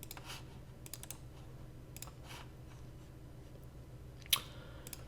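Quiet computer keyboard typing at a desk, sparse irregular key taps in short clusters with one sharper click near the end, faint and close, over low room noise.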